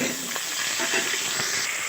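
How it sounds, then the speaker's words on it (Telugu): Mutton pieces frying in a little oil for a Telugu brinjal-mutton curry give a steady, close hiss and sizzle that holds evenly the whole time with no voices. "కొంచెం ఆయిల్లోనే వేయించాలి మటన్ని."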